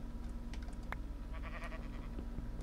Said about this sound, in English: Yes, I hear you, sheep. I hear you.